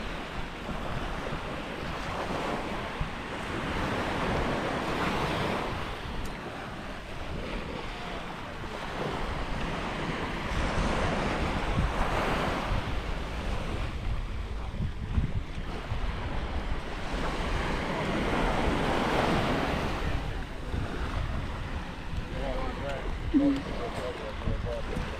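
Surf washing ashore at Long Beach on Koh Lanta, Thailand, a steady broad roar of breaking waves with gusts of wind noise buffeting the microphone, and a voice talking over it.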